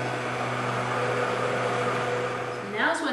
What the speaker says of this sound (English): As I'm running my immersion blender, I'm slowly going to pour in 2 cups of milk.